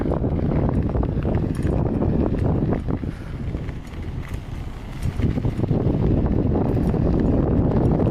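Strong wind gusting outdoors on a trail, a loud steady roar of buffeting air against the microphone that dips briefly midway and then returns to full force.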